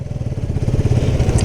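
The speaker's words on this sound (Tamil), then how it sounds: "இப்போது 4 பைக்கு 4 பேர் கிளம்ப போகிறோம்." Motorcycle engine, a KTM 250 among several bikes, running steadily with a loud, low, throbbing drone and close rhythmic pulsing, with no talking.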